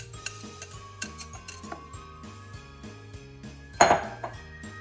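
A whisk stirs milk and egg yolk for eggnog in a pot over low to medium heat, giving a run of light, fairly regular metallic clinks and ticks, with one louder scrape near the end, over soft tonal backing.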